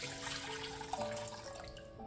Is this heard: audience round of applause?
no